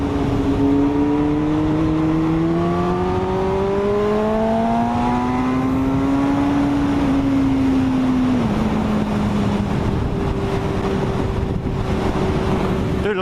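Honda CBR 954 sport motorcycle engine droning steadily while riding on a cold day, pitch rising slowly through gears then easing, with constant wind rush over the microphone and no talking.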